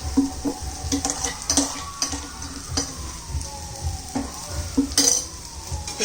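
Kolhapuri thecha, a coarsely crushed roasted chilli paste, sizzles and fries in a pan with onions while a spoon stirs and scrapes, making steady crackling with clinks of utensil against the pan and no talking.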